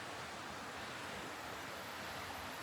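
A flowing river rushes steadily in a continuous, even wash of water noise at low level, heard from nearby at a vacation villa, without any voices.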